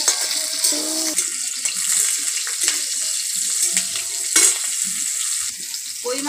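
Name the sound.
green chillies and panch phoron frying in oil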